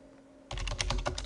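Rapid typing on a computer keyboard while entering text in a word-processing document, starting abruptly after a brief quiet hum and continuing as a dense run of close, crisp key clicks with no talking.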